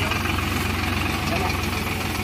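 Vasundhara super reaper cutting crop behind a tractor, its engine running in a steady, loud idling-like drone with a rhythmic low throb and mechanical rattle throughout.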